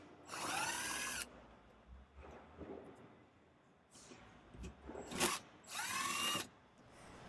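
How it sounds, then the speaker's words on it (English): A power drill backs screws out of the panel under the seat of a 2022-2025 Polaris RZR Pro R 2.0L, giving two loud whirring bursts at the start and end with quieter clicks and handling noises between, close up. "Now you're going to remove all the screws securing the panel underneath the seat."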